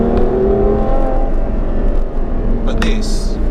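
Ferrari F12 TDF V12 engine revving hard with quick gear changes, a loud droning roar with shifting harmonics and a brief burst near the end, heard close under continuous talk.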